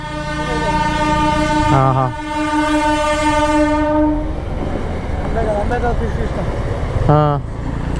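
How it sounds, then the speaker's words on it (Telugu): A passing local train bound for Mysore sounds a long, loud horn, then the rumble and clatter of cars continues before the horn blares again briefly near the end. "local train"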